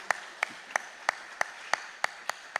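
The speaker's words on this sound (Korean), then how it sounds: "우리 찬양대를 위해서 박수 한번 해줄까요?" A church congregation claps for the choir in slow, unison rhythm, sharp evenly spaced beats about three per second, fairly faint and echoing in the sanctuary.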